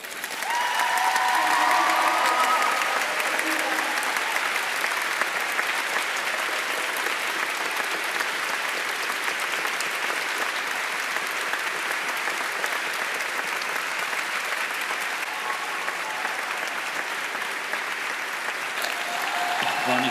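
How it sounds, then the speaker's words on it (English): Graduates at a graduation ceremony applaud their supporters, giving a long, steady round of dense clapping that holds loud and even throughout, with faint crowd voices beneath. "give your supporters the biggest round of applause."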